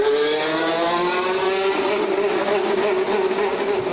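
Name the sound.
Lotus E22 Formula One car on track at Bahrain testing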